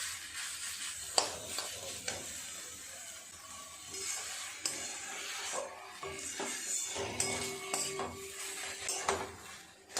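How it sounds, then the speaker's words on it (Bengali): Banana flower filling stirred in a pan until dry, with spoon scrapes, soft sizzling and occasional metallic clinks against the pan, close and steady throughout without any talk. "খুব ভালো করে এখন পুরটাকে এইভাবে নেড়ে চেড়ে শুকনো শুকনো করে নিতে হবে।"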